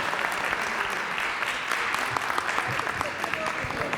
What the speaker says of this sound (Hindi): भाई, भरपूर तालियां इस नौजवान,